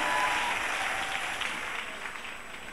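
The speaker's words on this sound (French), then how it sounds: "Est-ce qu'on peut donner des acclamations au Seigneur?" Church congregation applauding and cheering, a dense, steady roar of clapping that fills the room and gradually eases off.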